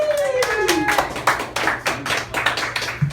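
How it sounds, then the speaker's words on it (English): A comedy-night audience at the Poet and Patriot in Santa Cruz applauds as a comedian is brought on, with dense, close clapping and scattered sharp hand claps that carry on steadily throughout. "Give it up real loud for Greg Enyart"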